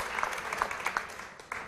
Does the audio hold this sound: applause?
yes